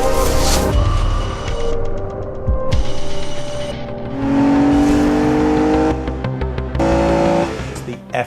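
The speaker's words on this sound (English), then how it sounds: "Effortless performance from this 6-litre V12 engine, effortless torque, effortless power." An Aston Martin DB9 with a 6-litre V12 engine revs loudly, its tone rising and falling through several surges with brief pauses between them, set under music and close enough to sound full and strong.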